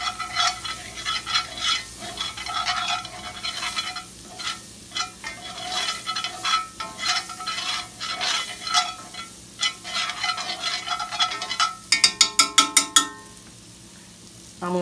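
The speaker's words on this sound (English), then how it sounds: "the key to this is to stir" Onions frying in a pan for Salisbury steak, sizzling steadily while a utensil stirs and scrapes through them in repeated strokes, with a quick burst of sharp metallic taps near the end.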